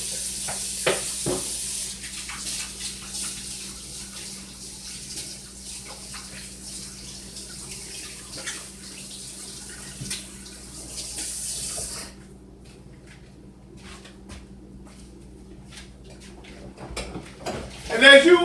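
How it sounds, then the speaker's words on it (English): Hands being scrubbed under a running kitchen tap while making dough for cinnamon rolls, a steady broadband water rush for about twelve seconds that then cuts off, leaving quieter handling noises and a brief clatter near the end. "Now I'm going to wash my hands real good."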